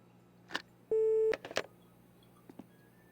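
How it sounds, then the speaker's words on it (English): A telephone in the video game My Winter Car gives a short, steady electronic tone of about half a second. Faint clicks come before and after it in an otherwise quiet room. "If you hear the dial tone, it's paid and working."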